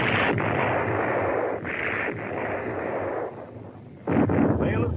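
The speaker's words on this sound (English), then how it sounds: "The big guns under their camouflage netting open up." Big artillery guns under camouflage netting fire from entrenched hill positions near the Panmunjom truce site in Korean War archival footage, producing sustained heavy rumbling blasts with a loud fresh report near the end.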